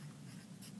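Pen or chalk writing by hand on a board during a vocabulary lesson, a steady soft scratching stroke lasting under a second, close and alone without talk.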